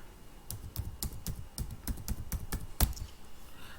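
Fingers type on a computer keyboard, entering a mobile number during data entry on a health portal, giving a sparse run of distinct, close key clicks at an uneven pace, with no talking.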